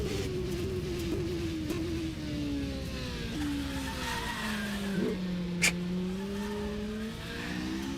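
Open-cockpit race car in rFactor 2 on a wet track, its engine droning and sliding in pitch while the tyres squeal and skid in long wavering streaks, with a brief sharp click near the end.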